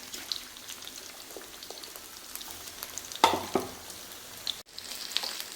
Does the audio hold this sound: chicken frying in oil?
yes